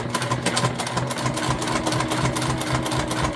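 A sewing machine topstitching a fabric ID holder runs steadily at close range, a rapid, even mechanical chatter of needle strokes over a low motor hum, with no one talking.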